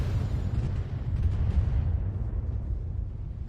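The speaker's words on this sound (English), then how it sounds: "Kind of sounded like I heard a secondary explosion." A generator destroyed in the mech combat game Battletech, a loud sustained rumbling explosion with a deep booming body that fades gradually, heard alone without speech.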